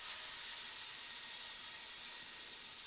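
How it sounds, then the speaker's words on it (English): Food searing in a hot pan, a steady broadband sizzle that holds at an even level for about three seconds, with no talking over it. "if you don't get that searing sound, your pan is probably not hot enough"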